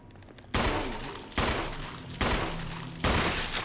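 Four loud, evenly spaced gunshots in the Resident Evil HD Remake game, each a sharp close blast with a short decaying tail, fired at a steady deliberate pace.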